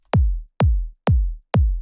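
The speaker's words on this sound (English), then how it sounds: "It consists out of a very punchy and deep kick like this one." Four punchy, deep electronic tech house kick drums, evenly spaced and isolated, each with a sharp click attack and a booming low tail that cuts off before the next hit.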